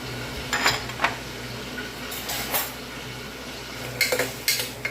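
Garlic and then onions go into a cooking pan for quick pav bhaji, with clinks and scrapes of a utensil against the pan and a faint sizzle below. The sharp metallic taps come irregularly, close by, with no voices.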